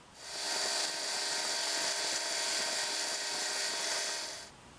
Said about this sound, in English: Then I moved on to the coarse conditioning belt.